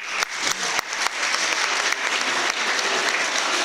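An audience applauds the artist Carcasse at a World Poetry Day event, a steady, dense wash of clapping with a few sharper individual claps standing out, filling the whole stretch at fairly close range.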